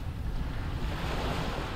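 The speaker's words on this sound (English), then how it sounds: "we do have water spray off the bow, and we got foam off the rear." Steady broadband rush of water spray and waves breaking off a ship's bow in Microsoft Flight Simulator during an Antarctic expedition voyage, a continuous wash of surf with wind noise and no talking.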